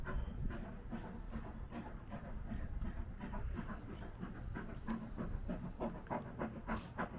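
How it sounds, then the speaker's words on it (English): Rhythmic chuffing of a steam locomotive on the Pickering to Whitby line, repeated puffs over a rumbling rail background, moderately distant and steady throughout. "Lovely steam trains."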